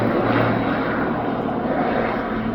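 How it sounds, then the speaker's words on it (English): Engine of an aerobatic display plane at an air show, a loud continuous drone holding steady throughout. "Indeed, many aircraft can do aerobatic manoeuvres in descent."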